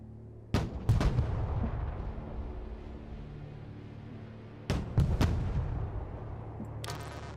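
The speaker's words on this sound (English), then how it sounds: "Fire coordinates received. Mortar ready. Send mission." Mortar fire in the war video game Broken Arrow: two clusters of loud, booming shots, each a quick double or triple report with a rolling tail, separated by several seconds of low rumbling battlefield ambience.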